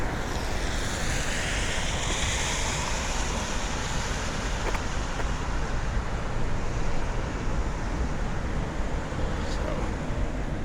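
Saucon Creek in South Bethlehem, Pennsylvania, running high, gives a steady broadband rush of flowing water heard close and continuous, mixed with wind noise and no talking.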